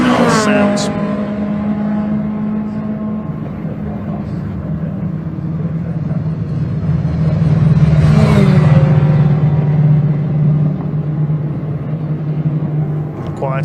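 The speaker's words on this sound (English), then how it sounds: "the sharp exhaust of the Civic there as well. The rumble of the Ginetta." Saloon race cars, Renault Clio, Honda Civic and Ginetta, lap Donington Park GP circuit, engines droning with a steady low rumble that swells as a car passes closer midway, while a commentator talks over the noise.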